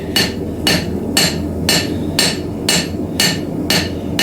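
Steady, evenly paced hammer blows ring out as a blacksmith forges a frontier knife blade on an anvil, about eight sharp metallic strikes close up and loud with no talk.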